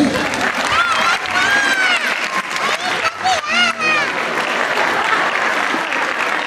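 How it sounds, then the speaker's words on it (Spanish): Theatre audience at a comedy and magic show applauds loudly and steadily, with whistles and cheers rising through the dense clapping from start to finish. "Fuerte el aplauso para el comediante."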